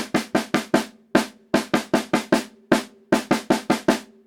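A drum fill ending with a tom hit, played as a series of sharp, close drum strokes in quick groups of four or five separated by short pauses, with no voices.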